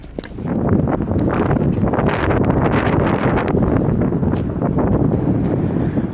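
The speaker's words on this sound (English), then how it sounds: "It's windy as hell." Strong wind buffets the microphone continuously, a loud low rumbling roar with gusty rustling throughout and no voices.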